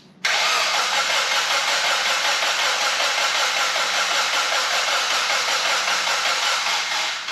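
A Mazda Miata race car, powered from a jump box, cranks briefly and then runs with a loud, steady engine roar held close for several seconds before it eases slightly at the end.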